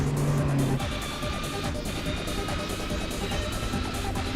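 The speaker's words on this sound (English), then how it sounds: "I never paid attention to how aggressive this truck sounds when you put the racing exhaust on it" A truck fitted with a racing exhaust in Gran Turismo 4 gives off a loud, aggressive engine roar with a raspy growl that stays steady and close throughout the short stretch.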